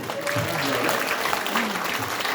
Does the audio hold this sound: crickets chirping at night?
no